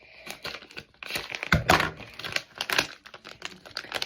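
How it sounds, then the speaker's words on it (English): Scissors cut into a plastic mystery capsule for a stitch-themed unboxing, giving close crinkling, snipping and crackling bursts, with a louder crunch midway and no talk. "I think I'm gonna use my scissors again"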